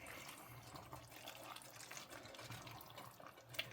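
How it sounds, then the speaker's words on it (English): Water pours into a cooking pot of diced tomatoes, a soft, steady faint trickle and splash with a brief drip near the end. "I think we're going to have to add some water here."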